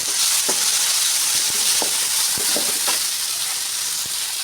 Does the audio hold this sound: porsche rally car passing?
no